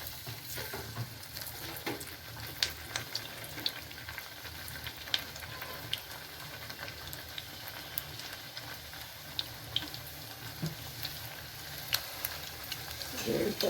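Pieces of jonna flour dough deep frying in hot oil in a pan, a dense continuous bubbling sizzle at moderate level with scattered faint pops and no clear talking.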